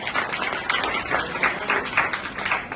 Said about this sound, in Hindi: तालियां प्रिया के लिए।